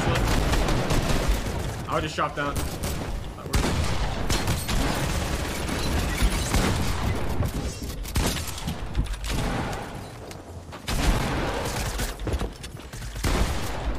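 Gunshots crack in the video game Fortnite, scattered bursts and single loud reports over busy game noise, with a voice talking over parts of it.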